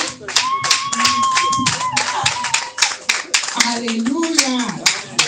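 A church congregation claps in a fast, regular rhythm during Sunday worship, sharp close hand strikes layered under singing voices that carry melodic lines throughout.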